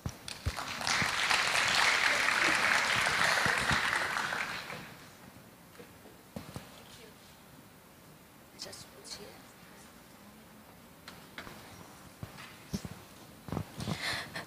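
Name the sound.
audience applause welcoming speaker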